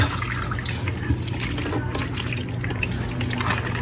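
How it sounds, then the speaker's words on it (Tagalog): Water drains steadily through a strainer from a large batch of salted fish being made into ginamos, a continuous close trickle and patter with no speech. "Strainer natin para matulo yung tubig."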